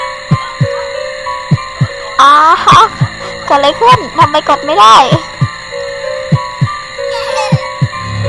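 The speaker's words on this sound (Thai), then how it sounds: "อาจจะเสียงหัวใจเราเต้นนะ" A steady, thumping heartbeat pulses through the horror video game The House, regular low beats continuing under a player's excited talking.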